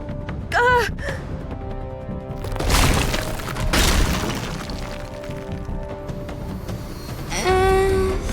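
Cracking and crashing noises burst from the walls of a flooding bunker in a video game, sharp breaking hits over a steady low rumble, with musical tones and a rising sweep near the start and end.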